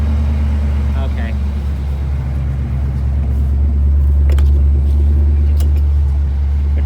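A 1982 Pontiac Trans Am engine runs at a steady low idle, a deep continuous rumble close by, with brief voices over it.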